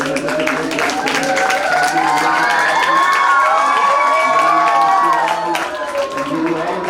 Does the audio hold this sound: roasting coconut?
no